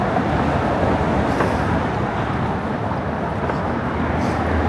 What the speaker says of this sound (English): Just road noise from the cars